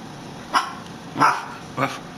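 A dog gives three short, sharp barks spaced about half a second apart, fairly close and loud against quiet background noise.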